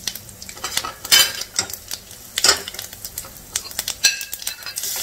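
Ginger garlic paste fries in oil with cumin seeds and asafoetida while a spoon stirs it. Irregular clinks and scrapes of stirring sit over a soft, uneven sizzle.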